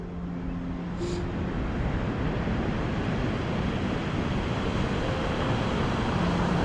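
Loud sea waves surging on a beach along the coast near the Giant's Causeway, a continuous roaring wash of surf with wind buffeting the microphone throughout.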